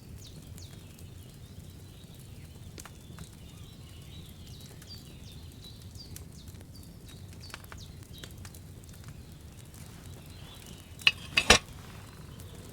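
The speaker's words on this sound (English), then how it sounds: "Hear that bubbling? It's boiling." A cauldron of wine bubbles over a flame in the medieval video game Kingdom Come Deliverance 2. The boil is a steady soft crackling simmer, with a few louder clinks near the end.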